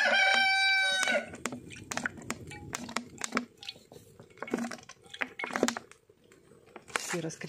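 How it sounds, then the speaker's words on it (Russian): Chickens cluck and squawk in scattered bursts, with a rooster crowing at the start and some background shuffling, as a hen is herded in at a home in Sloviansk. "Нурдом, пойди курицу загони."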